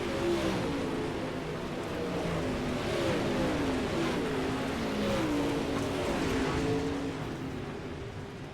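Late model race cars roaring around the track at Knoxville, a continuous loud engine drone with rising and falling revs as several cars pass, no talk over it.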